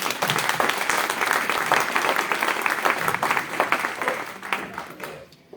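Audience at a conference applauding, dense sustained clapping from a crowd that thins out and fades near the end.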